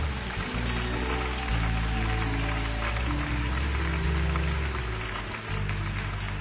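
Church congregation applauding during a worship service, sustained clapping from a large crowd blended with music and voices, steady and full throughout.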